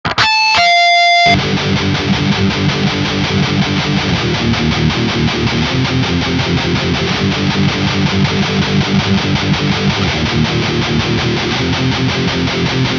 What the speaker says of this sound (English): But then you play harmonics and go into a distorted section, which sounds like this.